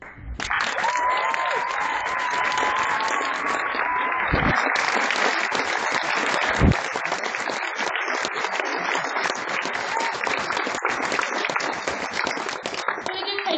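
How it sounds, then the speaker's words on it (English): Audience applause fills the room right after a Christmas song performance, steady, dense clapping holding at an even level throughout, with a brief whistle-like tone near the start and scattered louder thumps. "another round of applause for that"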